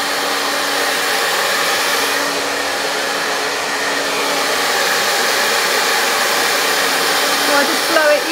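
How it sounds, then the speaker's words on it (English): A hair dryer blows continuously, a loud steady whooshing roar close by with little change across the whole stretch. "it dries the hair and it just stops it from being frizzy."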